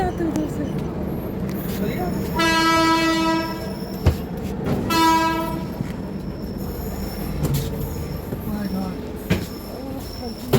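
An Indian passenger train rumbles and clatters up close, its horn sounding in two long blasts, with sharp clanks and people talking over the noise.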